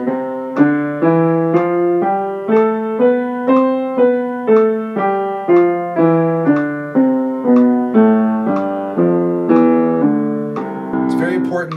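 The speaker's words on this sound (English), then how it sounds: "we're going to turn right into another run of the scale, but now 2 octaves, twice as fast." A piano plays a scale run spanning two octaves in steady eighth notes at 60 beats per minute, each note struck cleanly and evenly, rising then falling, loud and close with no talking.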